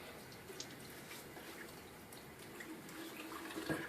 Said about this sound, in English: Let me not forget to get my face wet here.